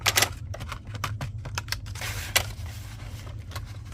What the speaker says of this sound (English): we're going to cut up to this second score line